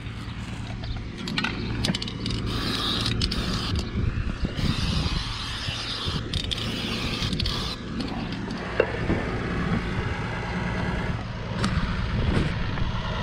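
A tractor engine runs steadily during earthmoving for a photovoltaic hangar, a continuous loud rumbling drone with occasional clunks and scraping from the work, heard from close by throughout.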